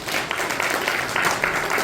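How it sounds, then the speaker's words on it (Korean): A church prayer-meeting audience applauding to welcome a pastor to the pulpit, a dense, loud wash of many hands clapping continuously, with no pauses. "우리 나오실 때 환영하는 의미로 박수로 환영하겠습니다"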